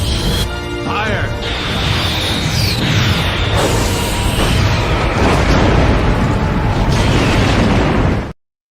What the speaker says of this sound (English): Target that explosion and fire.